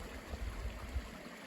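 Alpine stream widening into a swampy stretch along the Tahoe Rim Trail, a steady low burble and trickle of flowing water close by, continuous and unbroken with no voices.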